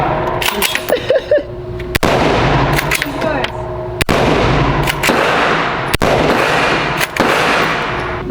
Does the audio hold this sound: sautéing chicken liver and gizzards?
no